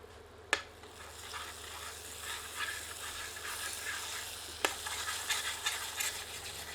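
Masala curry simmers in a covered pot over a low flame, giving a soft steady sizzle with light scraping as a ladle stirs it, plus a couple of sharp knocks from the ladle against the pot.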